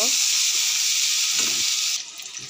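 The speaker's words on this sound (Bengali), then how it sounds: "এবার আমি মশলা দিয়ে ভালো করে কষিয়ে নেব।" Okra and potatoes fry with spices in a pan, giving a loud, continuous close sizzle that drops suddenly near the end, with a brief stirring knock and no talking.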